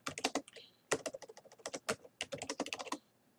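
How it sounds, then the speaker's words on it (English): Rapid typing on a computer keyboard while entering a note in a computer application, with dense bursts of close, crisp key clicks separated by brief pauses. "type in your text here"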